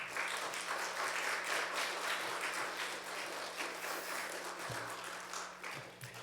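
A church congregation applauds at an early-morning New Year prayer service as a pastor comes forward, a dense, even wash of clapping lasting about six seconds.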